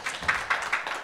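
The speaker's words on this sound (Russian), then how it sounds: "Давайте аплодисменты" Audience applause at a panel discussion, a short burst of scattered hand clapping of moderate loudness, heard alone.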